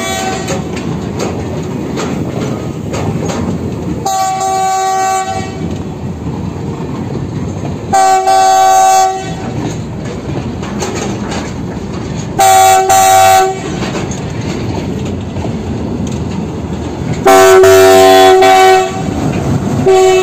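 A special passenger train on a rail line in Dima Hasao passes close by in a loud, steady rumble with clattering wagons, and its horn sounds in several long blasts.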